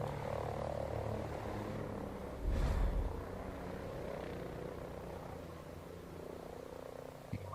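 A helicopter passes overhead in the Ghost Recon tactical shooter, its rotor chop steady and fairly low beneath game ambience, with a brief louder burst near the middle and no talking.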